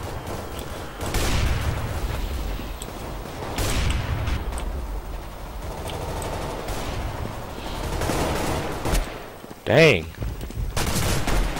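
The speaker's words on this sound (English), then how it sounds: "Don't be shooting at me." Gunfire in the video game Counter-Strike: Global Offensive, with bursts of shots scattered through the clip and a louder crack near the end, heard under a player's voice.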